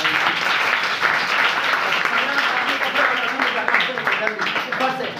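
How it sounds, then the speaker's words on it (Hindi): A class of Hindi grammar students claps together on a teacher's cue, a sustained burst of many hands with a few voices mixed in beneath it. "वेरी गुड, ताली बजाओ।"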